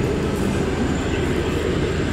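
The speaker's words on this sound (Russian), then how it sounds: "О, поехал поезд." A train pulls away, giving a steady low rumble of rolling railway cars that fills the short clip at close range, with no talk.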